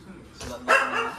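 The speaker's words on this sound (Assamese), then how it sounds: "কুকুৰে ভাল স্বাগতম কৰিছে" A dog barks once or twice at close range in a short burst, with a person's voice heard alongside it.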